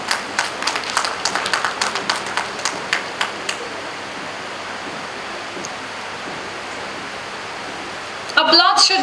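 Audience applause at an NAAC celebration ceremony, a run of sharp, fairly evenly spaced claps that thins into a steady hissy background before a brief louder burst near the end.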